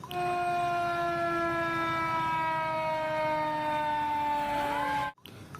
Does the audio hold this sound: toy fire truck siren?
yes